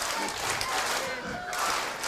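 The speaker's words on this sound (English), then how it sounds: "And this crowd right now clapping for Brian Cage" A wrestling crowd at a WSW Australian Championship match claps steadily, a continuous wash of applause and crowd noise filling the whole stretch at moderate loudness.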